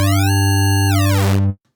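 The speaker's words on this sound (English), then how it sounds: "we're going to set the first modifier in here to inharmonic stretch" A Vital software synthesizer sounds a wavetable tone with an inharmonic stretch modifier: a loud, glassy held note whose overtones sweep and smear, then cut off abruptly into silence.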